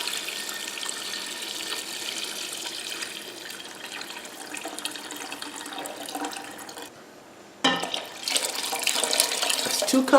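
Tap water runs steadily into a pot for a one-pot chicken broth meal, a continuous hissing splash that briefly stops and then resumes louder near the end.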